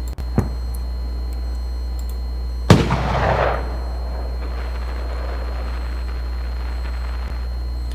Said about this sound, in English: We have crackling. It's what we call popping flowers.